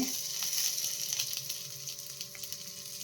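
Cumin seeds and curry leaves sizzle steadily in hot oil in a pan for benne dosa, a close, even frying hiss with a few faint stirring ticks and no talk.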